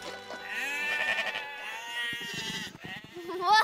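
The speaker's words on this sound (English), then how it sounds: "When it's time to move the sheep to a new field, you just rattle the food in this bucket and they'll follow you anywhere." Sheep in a field bleat several times in a row, with loud, wavering cries close by and a few overlapping calls.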